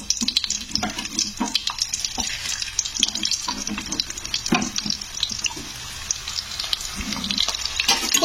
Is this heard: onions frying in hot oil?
yes